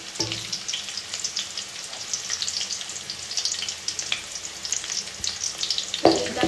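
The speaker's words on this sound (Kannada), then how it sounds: "ಫ್ರೈ ಮಾಡಬೇಕು ಇದನ್ನು ಈರುಳ್ಳಿ ಎಷ್ಟು ಚೆನ್ನಾಗಿ ಫ್ರೈ ಮಾಡ್ತೀರೋ ಅಷ್ಟು ಚೆನ್ನಾಗಿರುತ್ತೆ ಗ್ರೇವಿ" Sliced onions frying in a pan, a steady crackling sizzle with occasional scraping stirs and a sharper clatter near the end, close and without talk.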